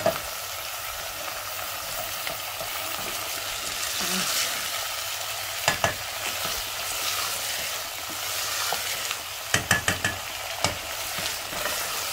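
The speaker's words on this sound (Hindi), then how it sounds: "इनको हम फ्राई कर रहे हैं बहुत ज़्यादा गरम तेल में" Bitter gourd (karela) frying in very hot oil over a high flame, a dense steady sizzle with scattered sharp clinks and scrapes of a utensil against the pan.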